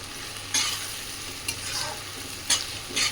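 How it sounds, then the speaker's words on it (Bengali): Onion, green and dried chilli and ginger-garlic paste sizzle and scrape as they are stir-fried for a mutton curry, steady frying hiss with four distinct spatula strokes spread over a few seconds, close and alone. "এবার ভালোভাবে আমি মশলাটা কষিয়ে নেব।"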